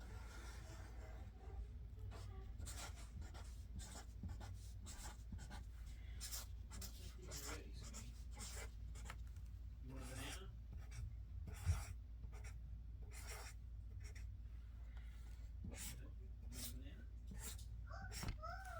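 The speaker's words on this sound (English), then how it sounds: "I'm going to draw the stage here." A marker or pen scratching out a hand-drawn stage diagram, with repeated short strokes and squeaks at an uneven pace over a low steady hum, faint and close.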